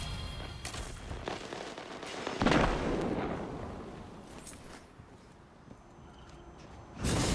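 A grenade detonates in Destiny's Iron Banner mode, a loud booming blast that rolls off into a fading rumble, then another sharp burst near the end, among ongoing multiplayer combat noise.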